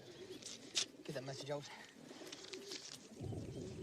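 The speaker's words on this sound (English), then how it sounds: "This is a good little English carrier pigeon." An English carrier pigeon coos softly in a First World War setting, a low burbling call close by, while someone speaks over it amid quiet background noise.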